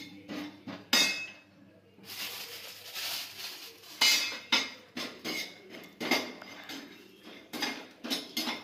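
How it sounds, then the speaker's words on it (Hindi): Dried coconut roasts in a home kitchen pan, heard as intermittent scraping and clinking of a spatula against the metal in irregular strokes, close and fairly loud, with no talking. "तो खोपरा भून रही हूँ यहाँ पे।"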